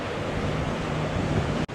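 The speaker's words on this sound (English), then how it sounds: "Look how crazy that water is today." Rough sea at Boynton Beach, Florida, with loud, continuous crashing waves and surf whipped by strong wind buffeting the microphone, ending in a brief sharp dropout.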